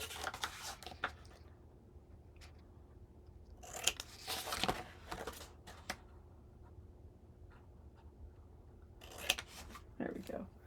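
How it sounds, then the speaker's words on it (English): Scissors cut into a chipboard corner for a paper mini album, bursts of close crunchy snipping in short clusters separated by quiet pauses over a faint background hum. "now I'm just going to take a pair of scissors and cut"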